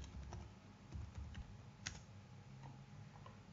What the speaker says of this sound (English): Here we need to type CodeBlocks.